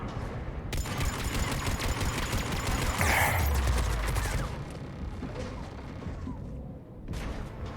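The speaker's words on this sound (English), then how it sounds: "Those cannons have to be stopped." Rapid cannon fire in a sci-fi shooter video game, a dense barrage of sharp repeated blasts with a heavy boom near the middle, loud and continuous before easing off into quieter rumbling.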